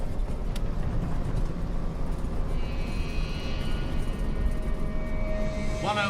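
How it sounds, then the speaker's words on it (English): Twin aircraft engines roar steadily at full power during a takeoff run down the runway of the 1958 Munich flight, a dense, continuous drone heard from inside the cabin. "Both engines sound an even note, and we're going down the runway now for a takeoff."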